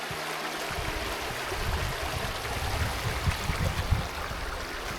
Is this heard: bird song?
no